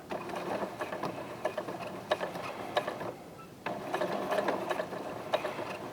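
An overlocker stitches around a T-shirt neckline, giving a fast, steady mechanical whirr with ticking clicks, briefly pausing mid-run before resuming at close range.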